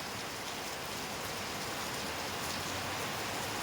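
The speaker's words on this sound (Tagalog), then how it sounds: "Pero kay ni, bundak naman pong ulan na ni." Heavy rain falls in a steady, dense hiss with no let-up, even and moderately loud throughout.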